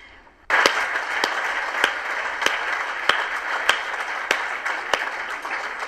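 An audience at a bilingual question-and-answer event on bees breaks into steady, moderately loud applause that fills the room, with a few sharper claps standing out at regular intervals.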